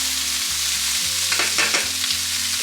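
Peppers sizzle steadily in a hot frying pan as a utensil scrapes and stirs them across the bottom, with a few louder scraping strokes in the middle of the constant close-up frying hiss.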